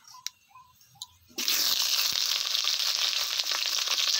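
Cucumber pieces drop into hot oil in a wok after a few faint clinks, setting off a sudden loud, steady sizzle and crackle of frying that continues to the end, close by and without talk.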